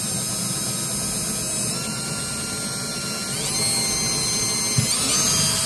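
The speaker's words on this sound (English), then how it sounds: "so you do need to drill pilot holes" A power drill bores pilot holes into a multiply trailer wall panel with a bonded laminate surface, giving a continuous close high-pitched whine that steps up slightly in pitch and intensity partway through.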